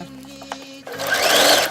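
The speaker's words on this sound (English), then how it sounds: "Pay attention to the sewing machine, not the background." A sewing machine starts up after a quiet moment and runs with a fast, steady mechanical whir of stitching, close and fairly loud.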